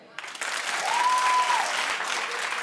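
A studio audience breaks into loud, sustained clapping after a brief pause, a dense wash of applause that lasts a couple of seconds with a faint voice over it.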